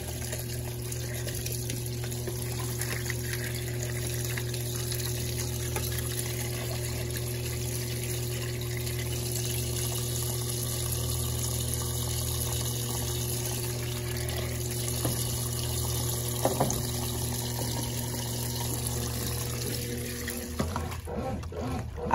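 A 1992 Brastemp Baby 4 kg top-loading washing machine fills with water, a continuous running-water rush over a steady motor hum, ending with a brief mechanical shift as washing starts.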